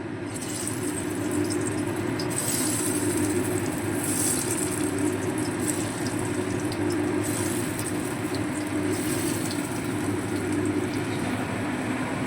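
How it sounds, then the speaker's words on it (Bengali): Raw papaya koftas deep-frying in hot oil, a steady dense crackle and bubbling that holds constant throughout, close and fairly loud with no talking. "এইভাবে আমরা বাকি কোপ্তাগুলো ভেজে নেব"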